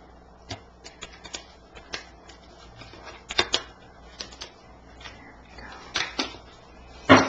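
Tarot cards being shuffled by hand at close range, with soft papery riffles and irregular sharp snaps and taps scattered across the stretch, fairly quiet.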